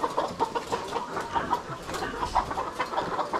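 Layer hens cluck and murmur in a poultry house, with a busy overlapping chatter of short calls from several birds close by.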